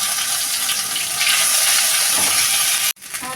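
Ginger paste sizzles loudly in hot oil with cumin, bay leaf and dried chilli as a steady, close frying hiss. The hiss briefly drops out near the end and then resumes.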